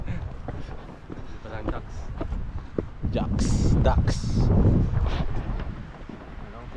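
Wind buffets the microphone during a motorcycle ride on a CB150X and NMAX V2 from Pangasinan to Sta. Fe, Nueva Vizcaya, with a low, uneven rumble that swells midway, while people talk over it.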